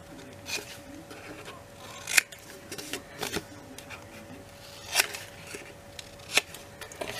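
Scissors cut the corners of folded paper at a bevel during a Christmas folio album craft. A few sharp, close snips and crinkles stand out over quiet paper handling, with speech in between.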